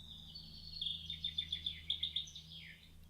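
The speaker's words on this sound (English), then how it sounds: "There are birds." A bird sings a quick series of high, bright chirps, fairly close and clear over a low steady hum.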